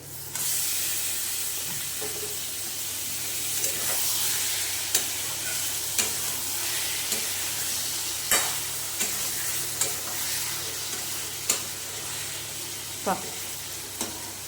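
Chopped bottle gourd stirred into sizzling spice paste with salt and sugar in a pan, a constant frying hiss broken by regular scraping strokes of the spoon, close and alone.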